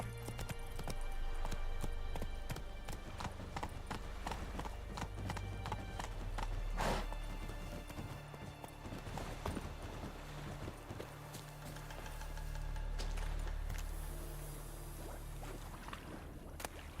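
A horse gallops in The Witcher 3, its hooves pounding in a fast, steady clip-clop rhythm up close, with an occasional snort and a faint whinny.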